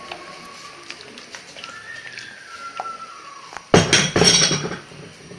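Drained vermicelli for payasam is stirred in a metal pan, giving a short spell of loud clanking and scraping after a quiet stretch with faint background noise.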